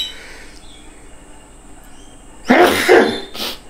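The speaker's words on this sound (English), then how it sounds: "make sure to sneeze actually" A single loud, close sneeze bursts out after a quiet stretch during a home rapid antigen nasal swab test, followed by a shorter trailing exhale.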